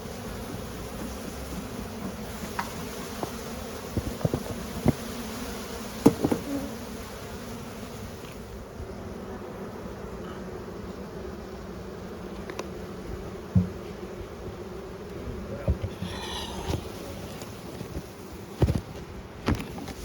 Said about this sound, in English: Beautiful bees, doing exactly what bees should do. Collecting a huge amount of honey.